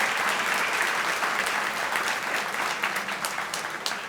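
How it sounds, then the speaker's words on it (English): Sustained audience applause fills the room at a spring luncheon, a steady, even roar of many hands that tapers slightly toward the end. "let's give another round of applause to Kelly and Tony, Hakeem, and Nikki."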